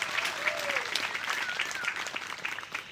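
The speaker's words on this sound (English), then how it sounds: "clap for her too" An audience at an outdoor band concert in Virginia City applauds steadily, a dense wash of clapping with a voice faintly audible underneath.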